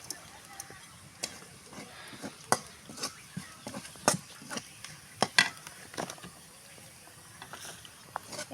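Garlic, onion, cumin, a bay leaf and panch phoron fry in oil, making a faint background sizzle broken by irregular sharp clicks and scrapes of a spatula stirring the pan, quiet and close.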